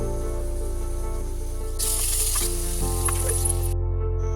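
Green chillies, shallots and onion hitting a hot pan for a Coorg crab roast, bursting into a loud, close sizzle with stirring, after a quieter hiss.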